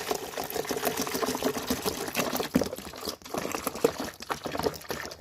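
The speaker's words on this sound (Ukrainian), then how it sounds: "Вливаємо спочатку миючий засіб і вливаємо воду." Detergent and then water are poured into the tank of a Thomas washing vacuum cleaner, making a close, fairly loud gurgling pour with small clicks and knocks from handling the container.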